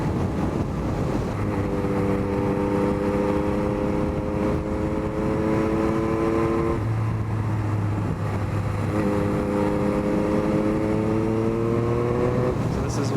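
A 2021 Yamaha MT-09 engine drones steadily under heavy wind buffeting, revs rising and falling through two gear changes as the bike is ridden along a twisty road.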